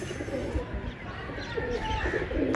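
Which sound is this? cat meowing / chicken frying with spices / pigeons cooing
pigeons cooing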